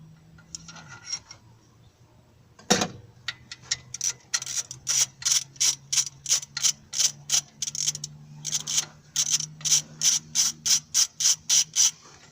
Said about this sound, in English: I'll just use my ratchet that simple